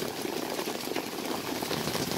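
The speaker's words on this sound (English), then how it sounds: "Love the sound of rain." Rain falling during a storm, a dense steady hiss of drops with no breaks, moderately faint, no voices.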